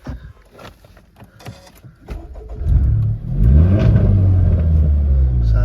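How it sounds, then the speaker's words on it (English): A Honda Civic Type R 2.0 i-VTEC engine cranks and fires up, then settles into a loud, steady idle with a deep rumble, heard up close. "I'll just start the car up"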